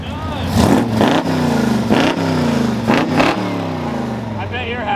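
A car engine with a four-barrel carburetor revs hard in repeated surges, each rising to a roar and dropping back, about four loud pulls close by before settling to a rough idle, with voices around it.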